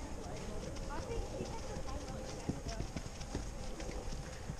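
Horse hooves clip-clop on the ground during a riding lesson with cantering and jumping, a steady rhythm of close, moderately loud footfalls under continuous outdoor noise and background talk.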